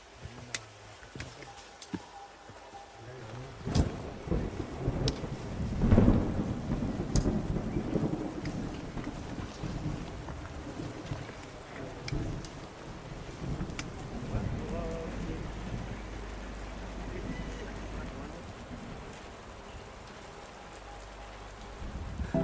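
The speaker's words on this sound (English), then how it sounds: "It's just started to rain." Rain begins falling at a 3,300-meter base camp in Sabah, Borneo, with rumbling thunder and steady patter on surfaces, building over twenty seconds under wind and occasional distant sounds.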